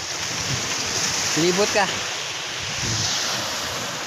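Strong sea waves surging on a windy shore near a fishing spot, a continuous rushing wash with wind buffeting the microphone, while someone speaks briefly in the middle.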